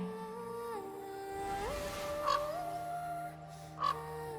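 A bird in Honkai: Star Rail gives two short raspy calls, spaced about a second and a half apart, over a sustained tonal musical backdrop with no speech.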